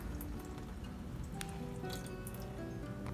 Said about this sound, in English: Draining the raisins.